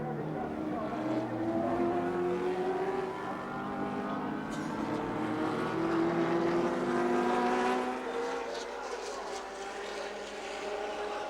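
Touring cars racing at Symmons Plains, Tasmania, in 1984, a steady roar of engines rising and falling in pitch as cars pass, with a commentator talking over it throughout.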